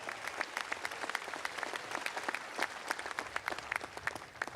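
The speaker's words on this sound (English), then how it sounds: "Another round of applause for Maria, student speaker." Commencement audience applauding a student speaker, a steady crackle of many hands clapping, fairly distant and moderately quiet throughout.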